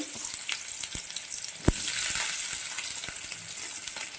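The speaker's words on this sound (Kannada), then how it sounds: "ಸಾಸಿವೆ ಜೀರಿಗೆ ಎರಡು ಚಟ್ಪಟ್ ಅಂದಾವ ಈಗ ಈರುಳ್ಳಿಯನ್ನು ಒಂದು ಈರುಳ್ಳಿ ಹೆಂಚ್ಕೊಂಡಿರ್ತೀವಲ್ಲ ನಾನು ಹಾಕೋಬೇಕು" Mustard seeds and cumin crackling in hot oil as sliced onion goes into the pan for churumuri susla, a steady broadband sizzle with a sharp tap of the addition near the middle and faint stirring scrapes throughout.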